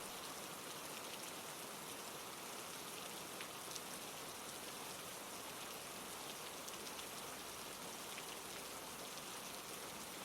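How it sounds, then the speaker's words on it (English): Steady rain pouring down into a bucket, a dense, even hiss of countless drops heard close and unbroken, with faint individual plinks scattered through the constant wash. "the rain had started to fill the bucket"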